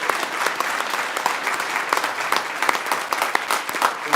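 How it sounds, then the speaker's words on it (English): A crowd applauds steadily at the grand opening of a neighborhood center, with dense, sustained clapping from many hands throughout at moderate loudness and no voices. "we can clap for that."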